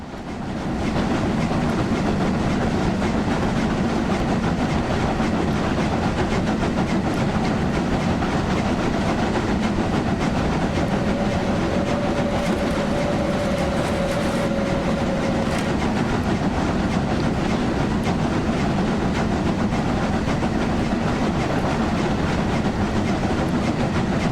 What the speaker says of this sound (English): I think those clanking noises you hear are the carriages going into corners